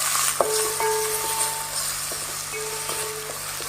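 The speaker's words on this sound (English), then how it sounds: "Once the onion is sauteed well, add tomato and saute it for a while" Onion and tomato sauteing in a pan over a medium flame, a steady close sizzle with a few light stirring scrapes and a faint tonal hum beneath.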